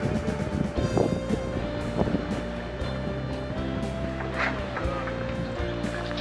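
Wind roars steadily around a sailboat crossing the North Atlantic in a light southerly breeze with the spinnaker up, a continuous broadband rush with boat and water noise mixed in and low tonal hums beneath.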